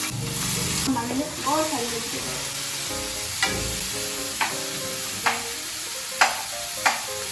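Mustard seeds and spices temper in hot oil in a home kitchen, a continuous loud sizzle with periodic clinks and scrapes of stirring, and a few words spoken briefly.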